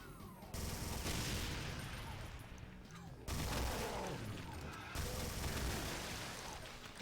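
Weapon fire in the Brutal Doom mod played through QuestzDoom, heard as dense, loud rapid bursts that restart in sharp onsets at about half a second, three and a quarter seconds and five seconds, with a speaking voice mixed in.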